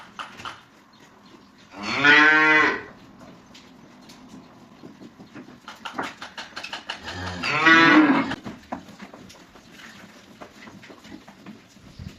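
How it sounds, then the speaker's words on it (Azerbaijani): Two loud, drawn-out cow moos ring out near the start and again around the middle, coming from cows just returned to a farm shed, with low rustling between the calls and no talking. "2 dənə inək gəldi"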